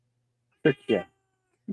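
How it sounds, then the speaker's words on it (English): Ariel, a pet cat, gives three short, close meows: two quick ones in succession, then a briefer chirp after a pause, in an otherwise quiet room. "that's my cat, Ariel. She's talking to y'all."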